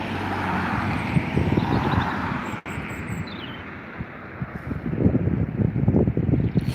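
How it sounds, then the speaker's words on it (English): An Airbus A320neo takes off at Dublin Airport with a loud, steady roar of jet engines. Heavy wind buffeting on the microphone comes and goes, and the rumble swells again toward the end. "Quite an early rotation of this A320neo"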